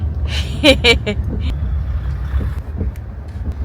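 Inside a car crossing the Farakka bridge at night after rain, a steady low engine and road rumble carries on throughout, with brief voice-like sounds near the start.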